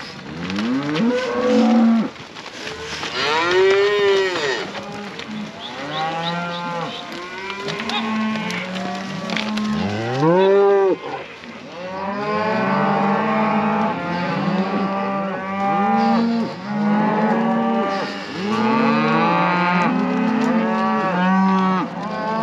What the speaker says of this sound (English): So mixed age cows, these are these calves.